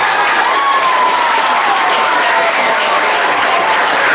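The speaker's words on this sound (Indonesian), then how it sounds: "Kita berikan aplaus dulu." Audience applause at a Maulid Nabi commemoration gathering, a loud, dense, sustained clapping from a crowd filling the whole stretch, with a faint voice or tone lingering underneath.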